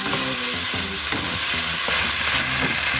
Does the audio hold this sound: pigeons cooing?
no